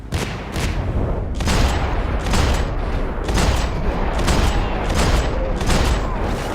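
Gunfire in the shooter video game Max Payne 3: heavy, repeated bursts of shots, loud and close, rolling in rapid volleys with short gaps between them.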